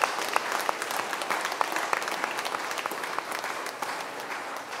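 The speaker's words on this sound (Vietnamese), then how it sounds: "Chúng ta làm tràng pháo tay cảm ơn anh Đức và gia đình." A congregation at a Vietnamese-language Holy Mass at St. John the Baptist church claps in thanks for a family, a dense, even round of applause that continues steadily without voices.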